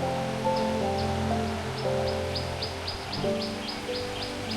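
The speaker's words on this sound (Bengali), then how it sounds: "শান্তি, পাখি ডাকছে।" Birds in the forest beside the Jhalong river in the Dooars give a rhythmic series of short, high chirps near sunset, repeating steadily over a constant low hum of the surroundings.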